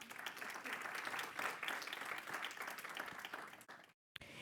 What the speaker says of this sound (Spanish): Les pido un aplauso para quienes nos acompañan en este panel